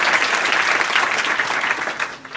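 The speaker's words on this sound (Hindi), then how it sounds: "जोरदार ताली मारो सारिका के लिए।" Brief, dense applause from a crowd of schoolgirls in a classroom at a girls' inter college in Azamgarh, loud and sustained before tapering off at the end.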